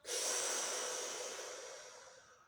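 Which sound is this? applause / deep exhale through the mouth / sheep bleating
deep exhale through the mouth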